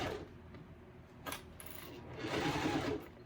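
A sewing machine back stitches a seam on a blue bowler bag, a short quiet run of motor whir with a small metallic click partway through, close and alone.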